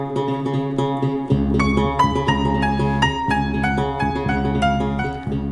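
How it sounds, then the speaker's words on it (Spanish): Theme jingle for a radio program's poetry segment: a bass-heavy musical sting with a steady low pulse and a rising, stepping melodic line over it, loud and continuous with no voices. "es nuestro columnista de poesía y tiene una cortina que suena más o menos así"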